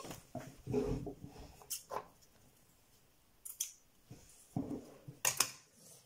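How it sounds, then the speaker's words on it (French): Scissors snip through satin ribbon, beige, while a sturdy album binding is being made: a few short, soft crisp cuts spaced across several seconds, close and quiet, with small handling rustles between them and no talking. "je vais mettre du ruban satin. Hop, donc je vais aller le découper"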